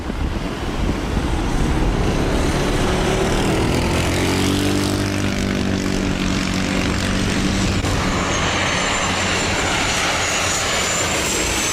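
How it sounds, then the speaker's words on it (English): A propeller airplane makes a steep approach to land at St. Barthélemy airport, its engine drone rising and shifting in pitch as it passes. Heavy wind buffets the microphone throughout. "This plane has to nosedive for the runway to be able to land."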